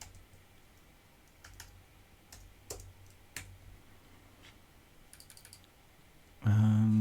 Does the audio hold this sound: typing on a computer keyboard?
yes